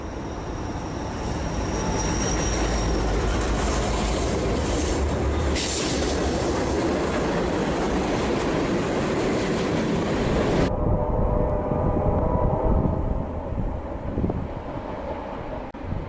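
A CSX freight train led by three locomotives, hauling three tank cars and a gondola, rumbles steadily past close by, wheels grinding and squealing on the rails, the roar cutting off abruptly and fading to a softer rumble near the end.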